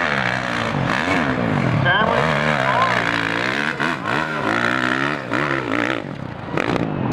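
A 750cc motorcycle engine revs hard and continuously on a hill climb run at a Sturgis Jack Pine Gypsies event, its pitch rising and falling beneath steady excited commentary.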